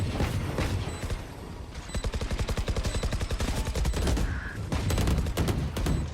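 Rifle, Judge and Sheriff fire in Valorant during a retake round, with loud, rapid automatic bursts and quick sharp shots crackling in close succession, broken by short pauses and small interface beeps.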